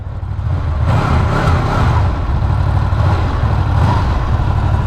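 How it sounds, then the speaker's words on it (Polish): A loud Honda VFR 800F V4 motorcycle engine runs nearby with a deep, uneven throb, blipping slightly in revs through a stock exhaust. "Jest dosyć głośny ten fabryczny wydech"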